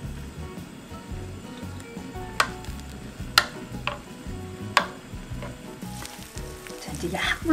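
An egg mixture seasoned with salt and sesame oil fries gently in a pan on low heat for a diet gimbap, giving a steady soft sizzle with occasional sharp ticks and a stirring scrape near the end.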